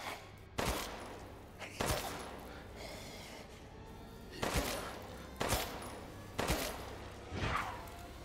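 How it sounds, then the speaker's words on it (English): Gunfire in the survival horror game Resident Evil Village: a series of sharp shots, alone and fairly loud, arriving in irregular bursts with short gaps and a faint ringing tail after each. "Did I even shoot the window that time, actually?"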